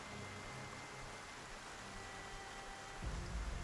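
Heavy rain in the Project Zomboid video game forms a quiet, even wash of hiss. A low rumble swells near the end, with no voices over it.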